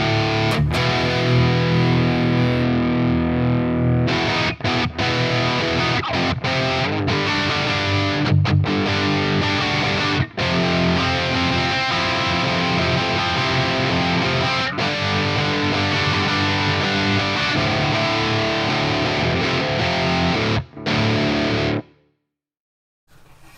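Electric guitar played through a Quad Cortex amp-modeler patch, loud and heavily distorted, with chugging riffs and brief stops before ringing out and cutting to silence at the end.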